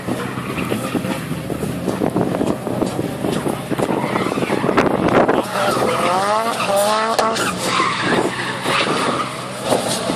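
Drift cars in a semi-pro powerdrift race sliding at 120–160 km/h, tires squealing in long wavering shrieks over roaring engines, loud and close with wind buffeting the microphone.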